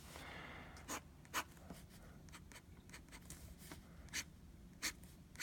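A Sheaffer Lifetime fountain pen with a flexible nib drawing skeletons on paper, quiet scratchy strokes with several sharper scrapes, very close and soft.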